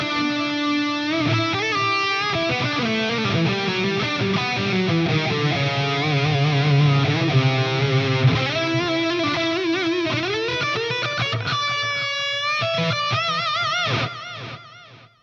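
An electric guitar plays a sustained, melodic lead line through a Fractal AM4 with 2290 delay and gold plate reverb, notes ringing out with echoing repeats and a lush reverb tail that fades at the end.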